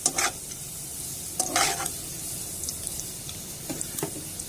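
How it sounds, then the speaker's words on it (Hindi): Garlic sizzles in a little cooking oil in a pan, the soft frying hiss broken by a few brief stirring and scraping bursts, with no voices. "थोड़ा सा कुकिंग ऑयल लिया मैंने, उसमें लहसुन डाल दिया मैंने। ये थोड़ा सा लाइट ब्राउन होगा"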